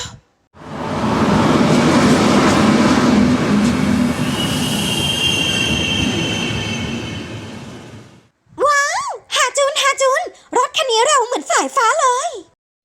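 A passenger train runs loudly on its rails for about eight seconds, rumbling with squealing wheels before the noise cuts out. Voices follow in a quiet carriage.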